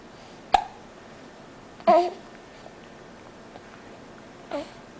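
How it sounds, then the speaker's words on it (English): Baby hiccups, three short sharp vocal bursts spaced irregularly over a few seconds, close and fairly faint against a quiet room. "It's hard to talk when you have hiccups."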